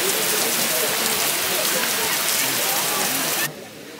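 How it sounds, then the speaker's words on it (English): Rain falling steadily at a beach, a dense, even hiss of drops spattering on surfaces that fills the clip loudly, then abruptly drops away near the end. "So it started raining."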